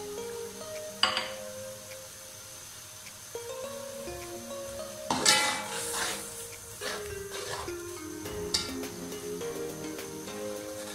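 A spoon clinks and scrapes against a cooking pot as whole spices are stirred into yogurt, with a few louder knocks and quiet gaps between strokes.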